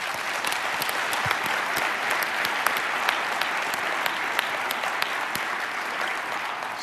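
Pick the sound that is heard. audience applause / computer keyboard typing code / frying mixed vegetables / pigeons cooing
audience applause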